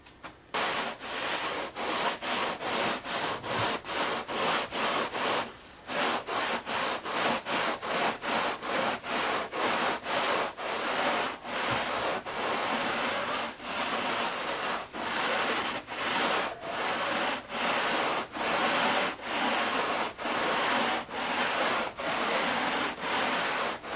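A wooden fuselage side edge is worked against a belt sander. Loud, close, rasping abrasion pulses in quick rhythmic strokes that barely pause over the whole stretch.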